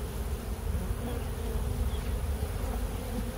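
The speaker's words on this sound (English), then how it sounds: "It's got a lot of nurse bees on it." Honey bees, many of them nurse bees, buzz steadily while being moved into a newly built Sam Comfort hive, a dense, close, continuous hum with no talk.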